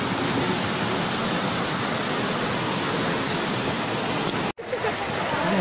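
Kundalika river flowing near Devkund waterfall, a steady broadband rush of water that stays loud and even throughout, broken only by a brief drop near the end.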